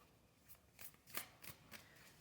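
Tarot cards are shuffled close by and faintly, giving a run of quick riffling bursts spaced about every third of a second over a soft background hiss.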